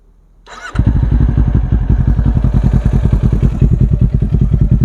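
A 2022 Kawasaki Ninja 400 with aftermarket Akrapovic slip-on exhausts starts up close and loud, then settles into a fast, even, throbbing idle pulse.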